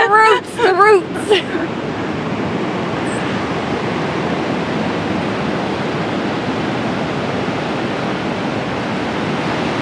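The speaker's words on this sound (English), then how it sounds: "the ocean is even calming down" Steady ocean surf on a gray, misty North Carolina coast, a continuous wash of breaking waves, with brief voices at the very start before the surf carries on alone.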